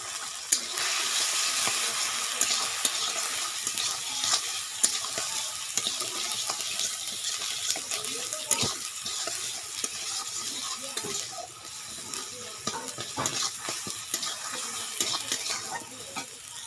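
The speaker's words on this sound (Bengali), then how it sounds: "এরপর নুন, হলুদ, লঙ্কার গুঁড়ো দিয়ে ভালো করে মশলাটাকে কষিয়ে নেব।" Spices with salt, turmeric and chilli powder being sautéed in oil for a Bengali fish teljhal, giving a steady loud sizzle with continual stirring scrapes throughout.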